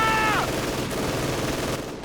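An MG42 machine gun opens up on German Panzergrenadier troops out in the open during a 1v1 Company of Heroes 2 match, a short rapid burst of game gunfire with a descending tone at the start and no voice.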